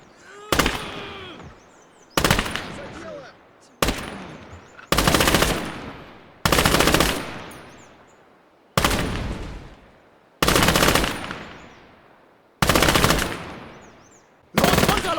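Axis light machine guns firing in the WWII strategy game Gates of Hell, about nine sharp, loud bursts of rapid automatic fire spaced roughly a second or two apart, each trailing off into an echoing decay.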